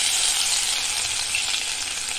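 Garlic sizzles and fries in hot oil as a tempering for a monsoon wild-greens dish, a loud, steady crackle running without break from start to finish.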